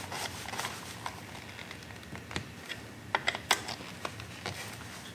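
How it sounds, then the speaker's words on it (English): A nut driver snugs the aluminum-alloy oil line fittings on a Suzuki TS50 oil pump, giving faint, irregular metallic ticks and clicks with soft rubbing between them, close but quiet. "use my nut driver just to snug these up"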